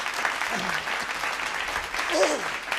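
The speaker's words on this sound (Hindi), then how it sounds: "समाप्त हो गई है, तालियां बजा सकते हैं।" Applause from the audience at a Hindi comedy poetry gathering (hasya kavi sammelan) rises under a speaking voice, a steady wash of clapping with the voice continuing over it throughout the short stretch.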